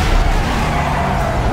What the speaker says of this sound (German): Dein Motor dreht aber komisch